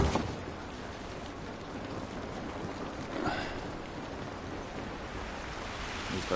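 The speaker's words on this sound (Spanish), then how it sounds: "Esta lluvia no nos ayudará." Rain falls steadily outdoors in The Last of Us Remastered video game, a soft continuous hiss of drops at low level with no voices over it.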